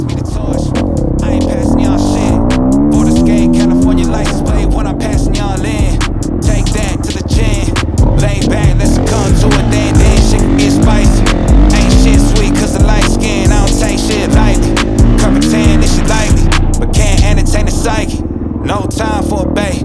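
A dirt motorcycle rides through snow at Gopher Dunes, its engine roaring loud and close with rising and falling revs throughout, blended with a loud backing track.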